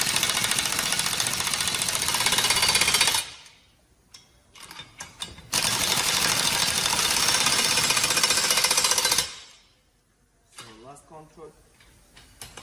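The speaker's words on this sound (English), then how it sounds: "So when you are tightening the bolts, you will go a little bit here" An air-powered tool rattles while tightening the bolts on a SAF SBS 2220 heavy-duty air disc brake caliper. Two loud, sustained hammering bursts are separated by a pause, with faint talk near the end.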